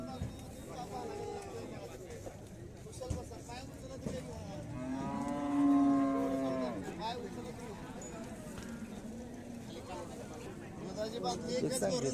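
Cattle and bullocks moo loudly amid a busy outdoor crowd at the Sangola livestock market, with one long drawn-out low bellow standing out over constant background chatter and livestock noise.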